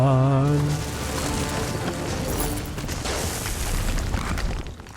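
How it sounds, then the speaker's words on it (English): Explosions in the Elder Scrolls Online video game roll out as a continuous heavy booming rumble that fills the scene from start to finish, with a brief tonal game sound at the very beginning. "An explosion all around me."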